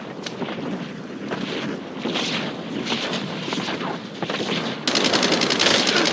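Gunfire in a ranked shooter video game: rapid automatic bursts blend with a wind-like rush, growing louder and harsher near the end.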